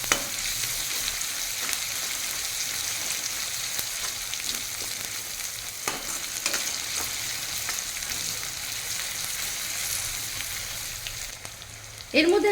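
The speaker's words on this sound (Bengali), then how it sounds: "আদা রসুনটাকেও পেঁয়াজের সঙ্গে ভেজে নিতে হবে।" Ginger-garlic paste fries with onions for chicken musallam, an even, moderately loud sizzle running throughout with occasional spoon scrapes and a louder stirring clatter at the end, no speech.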